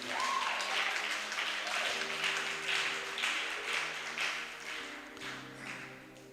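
Sustained applause and clapping from a church congregation during a sermon, a steady broadband wash of many hands over a low organ or keyboard drone, fairly loud and continuous throughout.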